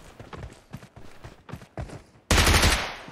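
Rapid bursts of video-game gunfire in a ranked Aladdin-update match, a run of sharp shots followed by a loud sustained volley at the end, no talk over them.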